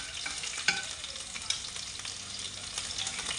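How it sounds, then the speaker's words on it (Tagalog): Ground meat fries in a small amount of fresh oil for a potato-and-meat lunch dish, giving a steady broadband sizzle with a few sharp spatula clicks against the pan; no one speaks. "Sundan natin tong giniling na karne"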